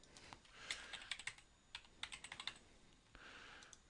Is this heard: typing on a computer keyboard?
yes